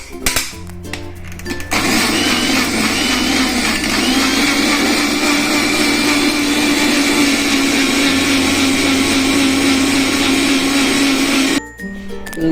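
A kitchen blender whirs loudly and steadily for about ten seconds while mixing an Oreo milkshake, starting and stopping abruptly, with no talk over it.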